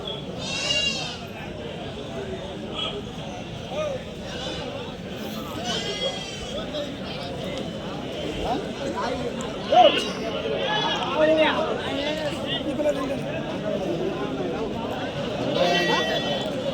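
Sheep and goats, including nannies with kids, bleat repeatedly at a busy Tuesday livestock market in Kadiri, their calls rising over a steady crowd murmur with people talking throughout.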